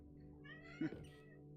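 A single short cat meow rises briefly out of a quiet, steady background, faint and close.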